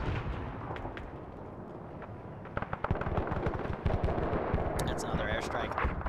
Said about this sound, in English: That's another airstrike.